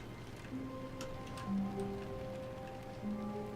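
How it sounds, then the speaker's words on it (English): Rain falling in The Stanley Parable video game, a faint soft patter with scattered ticking drops under a low hum and a few quiet tonal notes. "Sounds like it's raining"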